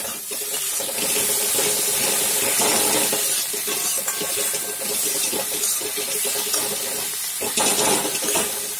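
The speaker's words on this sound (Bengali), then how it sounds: "মশলাটা একটু কষছি, দেখো তোমাদের দেখাচ্ছে।" Spice masala sizzling and frying in a pan, a steady, loud, close hiss with crackling and spitting that varies slightly in intensity throughout, with no talk over it.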